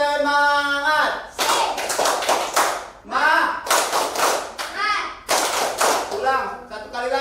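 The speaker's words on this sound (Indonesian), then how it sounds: "Tepuk semangat." A group claps the rhythmic 'tepuk semangat' pattern in several loud bursts of patterned claps, with a leader's voice calling out between and over the rounds.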